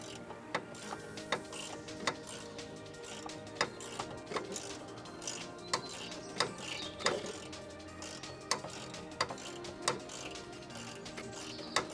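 A jack is lowered under the hub assembly of a 2024 Ford Transit Custom van, giving repeated close, sharp metallic ratcheting clicks at a fairly steady rhythm over a low mechanical background.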